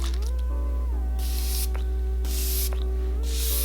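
Setting spray misted from a refillable mister spray bottle, three loud airy hissing bursts over a steady background hum.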